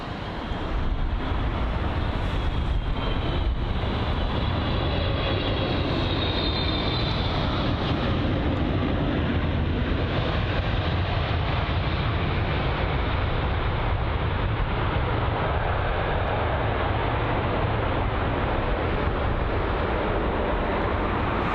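An Air China airliner from Beijing on approach to London Heathrow rumbles in a broad, steady roar that swells and holds for about twenty seconds, loud and fairly near, with no voices.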